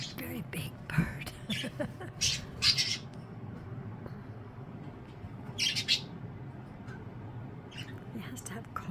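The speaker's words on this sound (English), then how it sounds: "That's Phoenix, a very big bird." A pet budgie chirps and squawks in short, scattered bursts near a small pool where birds splash. The calls are fairly faint and mixed with a person talking.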